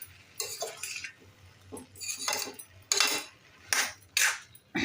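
A spoon stirs strawberry jam with jaggery in a pan, with uneven bursts of scraping and soft clinking against the metal, separated by short pauses.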